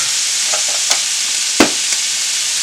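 Scallops searing in hot oil and butter in a pan give a loud, dense, continuous sizzle up close, marked by a couple of brief clicks or taps, with no voices.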